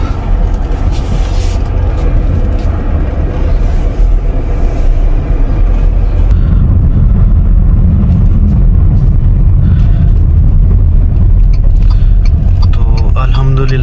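A car drives off and keeps moving, a loud continuous low engine and road rumble heard from nearby, with rattles and shifting tone as it travels, and a voice talking at times.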